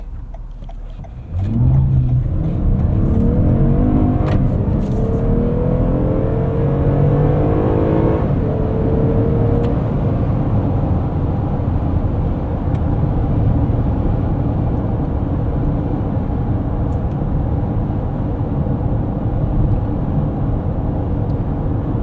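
A 2021 Toyota Highlander XSE accelerates hard up a highway entrance ramp at night, its engine rising steadily in pitch through gear changes, then settling into a loud, continuous drone of engine and road noise heard from inside the cabin.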